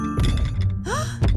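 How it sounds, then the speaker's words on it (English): Cartoon sound effect of big footsteps approaching in a kids' animated show, with heavy, booming low thuds at the start and end and a brief chiming, gliding tone in between. "That's the sound of big feet."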